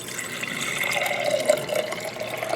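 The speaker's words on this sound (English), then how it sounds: "We're going to get some of our bottled water quality drinking water out of our own faucet." Water runs from the faucet of an APEC RO-90 reverse osmosis filter system as a steady, close splashing stream with small fluctuations throughout.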